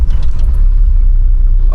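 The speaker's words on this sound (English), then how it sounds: "Let's just start the car up." A modified Tata Safari Dicor 2.2 VX SUV engine starting up: steady low rumble of the motor turning over close by, with a light rattle near the start and no talking.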